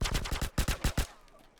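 An AK rifle in GTA San Andreas on PS2 fires a rapid burst of about ten sharp, loud shots in quick rhythm with a brief gap midway, then falls quiet.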